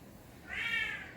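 A single short cat meow rises clearly over low room noise and lasts about half a second.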